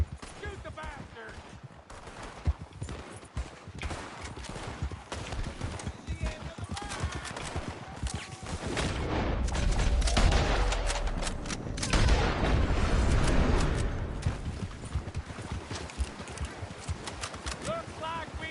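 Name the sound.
gunfire in video game Red Dead Redemption 2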